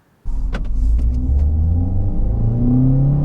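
A modified Ford Focus camera car with a louder exhaust accelerates hard, its engine starting abruptly and then rumbling loud and steady as the rising tone climbs through the gears, with a few sharp clicks near the start.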